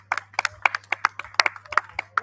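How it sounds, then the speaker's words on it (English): Scattered hand claps from a small group of schoolchildren after school performances, irregular and sharp, brief applause without cheering or talk. "Give them another round of applause."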